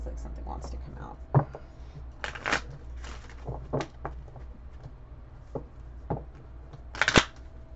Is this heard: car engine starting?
no